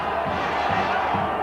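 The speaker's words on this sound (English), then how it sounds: "the crowd are baying for more" A large rugby league stadium crowd roars in a continuous, dense wash of voices at a match between the Bradford Bulls and Hull FC, steady and loud throughout.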